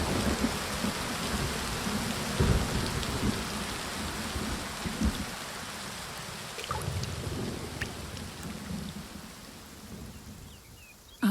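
Steady rain pours over a vineyard, a dense continuous hiss of drops on leaves and soil with a low rumble of thunder, easing slightly toward the end.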